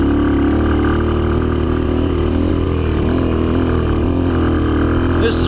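An old Honda XR 200 motorcycle with a steady, loud engine drone and a rough, buzzing idle-like tone, heard close and continuous throughout without any clear talking.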